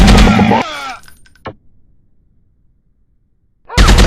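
Video game gunfire: a dense, loud burst of shots at the start that cuts off into a ringing decay with one isolated later crack, then a quiet gap before another heavy burst bursts in at the end.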